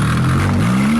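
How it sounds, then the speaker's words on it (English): A wrecked Porsche 911 Turbo engine revs up lightly, a rising mid-pitched drone climbing steadily through a short burst with no talk over it. "Just like gas it without hitting the brakes"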